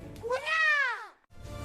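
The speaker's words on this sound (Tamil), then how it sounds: "ஒரு அங்க பாருங்க, மீசை பூனை." Animated cartoon cat gives a single drawn-out meow, rising then falling in pitch, clear and close against light background sound.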